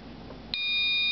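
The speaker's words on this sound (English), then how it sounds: "beep, the beeper goes off." Electronic beeper from an Arduino LED countdown clock going off, a single sharp high-pitched tone that starts suddenly and holds steady, clear and close.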